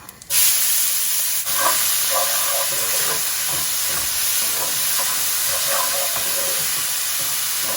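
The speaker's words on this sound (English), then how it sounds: "Then I'm just going to add in the finely chopped onions." Steady broadband sizzling and hissing of finely chopped onions frying in oil in a pan, continuous and fairly loud, with faint clinks and stirring noises.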